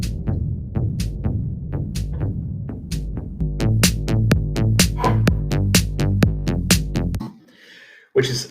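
A funky electronic drum loop plays alone, with sharp hits repeating in a steady groove and a deep bass drum landing on the off-beat. The loop thickens halfway through and then cuts off near the end.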